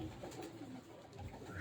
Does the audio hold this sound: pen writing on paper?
no